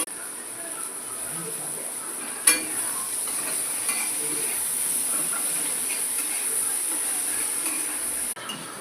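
Garlic sautéing in a pan for a fish curry gives a steady, faint, hissing sizzle that runs unbroken with only a couple of small clicks, and no one speaks.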